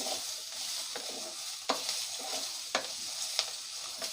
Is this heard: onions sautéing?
yes